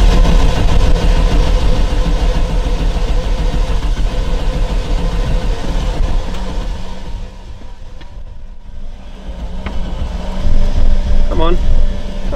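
A classic Audi Quattro engine turns over and runs with a loud, dense mechanical roar. It dips briefly in the middle, then surges again, with voices faintly over it.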